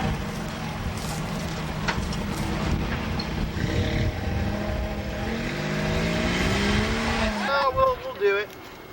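A car rolls over a test surface to leave tire impressions, its engine and tire noise rising and droning steadily before a short rev near the end, with people talking faintly in the background.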